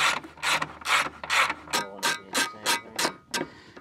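Hand ratchet backing long bolts out of a Jeep Wrangler JL, its pawl clicking in steady back-and-forth strokes, about ten evenly spaced raspy bursts, close and clear with no talk.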